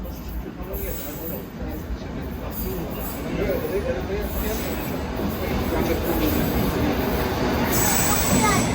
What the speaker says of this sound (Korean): 뒤이어 또 지하철이 하나 들어오네요